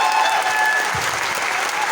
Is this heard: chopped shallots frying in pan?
no